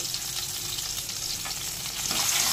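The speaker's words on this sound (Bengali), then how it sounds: "আলুগুলো ভেজে নেব হালকা লাল করে" Cut potato pieces frying in oil in a pan after fish, a steady close sizzle that grows slightly louder toward the end, with faint stirring and no voices.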